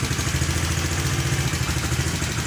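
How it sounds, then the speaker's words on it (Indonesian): A motorcycle engine idles steadily nearby, a close, continuous low putter with a faint mechanical clatter and no talk over it. "Motor sedang menyala, kita turunkan bos."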